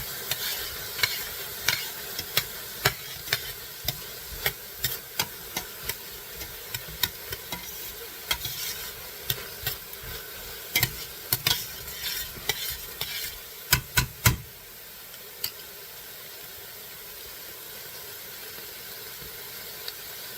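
Vegetables cooking in a pan for pork noodle soup are stirred with rapid, repeated spatula clacks and scrapes over a steady sizzle, then the stirring stops and only the sizzle continues.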